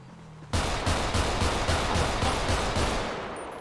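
Automatic gunfire in GTA RP erupts suddenly into a dense, rapid volley of shots, loud and close, sustained for about three seconds before tapering slightly.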